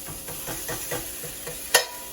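Onions and peppers sauté in olive oil in a skillet, making a steady close sizzle broken by rhythmic stirring scrapes and one sharp clack near the end, with no voices.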